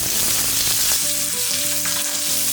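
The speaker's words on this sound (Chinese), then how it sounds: "我们下入这个姜蒜片还有葱段，给它爆香一下" Ginger and garlic slices with scallion pieces hit hot oil in a wok, giving a loud, dense, continuous close-up sizzle, with faint background music.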